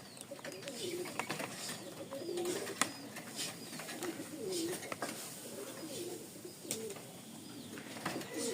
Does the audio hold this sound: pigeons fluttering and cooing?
yes